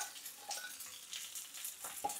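Mutton fries in an electric cooker with a quiet, crackling sizzle, small pops and bursts scattered irregularly over a couple of seconds.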